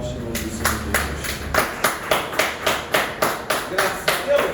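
Church congregation at a Portuguese-language sermon clapping in a steady, even rhythm, about a dozen sharp claps close and fairly loud over a low background murmur.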